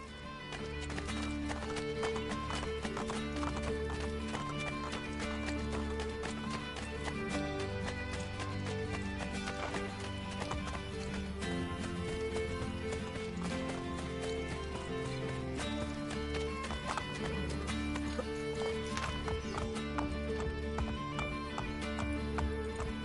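In Assassin's Creed Brotherhood, a horse's hooves clip-clop at a gallop in a quick, steady rhythm, broken by neighs, over game music with occasional voices.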